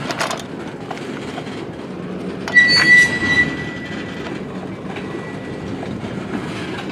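A CN freight train passes close by with steady rolling rumble, rail clatter and a sharp high wheel squeal rising midway, continuous throughout with no talk.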